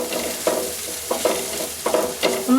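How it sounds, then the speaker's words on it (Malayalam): A masala paste with turmeric and garam masala being sautéed and stirred in a pan for Thattukada-style chicken perattu, a steady close sizzle broken by several scraping stirs, with no talk. "ഇത് നല്ലതുപോലെ ഒന്ന് വഴറ്റിയെടുക്കണം അരപ്പ്"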